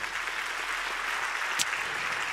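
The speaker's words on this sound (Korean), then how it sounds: "우리 선교사님들께 큰 박수 보내주시기 바랍니다" An audience at the opening worship service of a Korean world mission conference applauds missionaries, giving a soft, steady wash of distant clapping with one sharper clap standing out.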